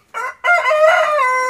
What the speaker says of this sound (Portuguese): fazer o galo cantar